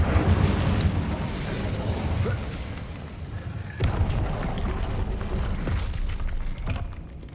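Incendio fire spell cast in Hogwarts Legacy to light something, a loud rumbling, booming burst of flame that roars steadily, dips briefly, then surges again and slowly fades.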